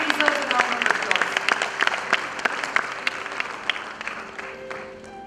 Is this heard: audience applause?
yes